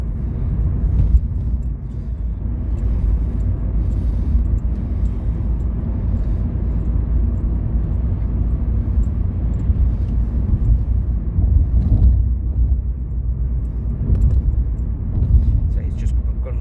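A Mk1 Ford Focus drives on local roads, its low engine and road rumble droning steadily and loudly inside the cabin while a person talks over it.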